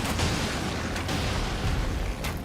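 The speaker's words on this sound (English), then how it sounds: "I don't know if you can hear the fireworks going off outside my window." Fireworks going off outside a window in January, a few muffled booms and pops at a distance, sharp bursts standing out over a low rumbling background.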